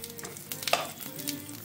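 Food sizzles and crackles in a hot pan during home cooking, a short, fairly quiet burst with a few louder pops near the middle and no talking.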